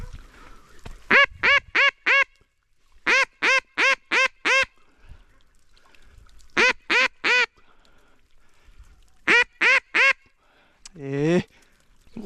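Ducks quack loudly during a duck hunt at the close of the season. The quacks come in repeated bursts of four or five rapid calls separated by pauses, and a lower, raspier call follows near the end.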